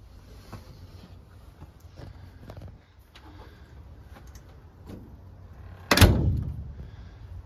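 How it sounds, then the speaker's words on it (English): Cab door of a 1969 White 9000 dump truck swinging shut with a single solid, heavy slam near the end, close and loud after quiet shuffling. "You don't get doors that close like that anymore."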